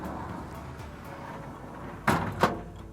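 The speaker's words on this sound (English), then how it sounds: "On this service body, we also fitted a underbody rear roller drawer." The underbody rear roller drawer of a HiDrive ute service body slides shut with a rolling rumble ending in two sharp metallic knocks, close and clear over low background noise.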